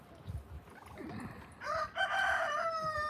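Roosters on a farm crow loudly in a pen by a fence, one long bright call after some softer clucking and muffled sounds, close to the listener.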